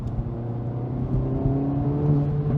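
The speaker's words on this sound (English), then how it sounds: "I can hear also I don't know if it's a blow-off valve, but it's definitely pressure release. Oh yeah, the turbo." Turbocharged hot hatch engine revving steadily and building, a close, loud mechanical whir with turbo pressure release, heard alone without talk.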